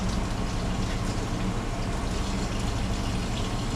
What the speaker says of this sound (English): take them out of the brine and just kind of rinse them off in a little cool water